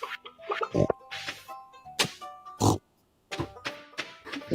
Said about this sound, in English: Sound like pigs.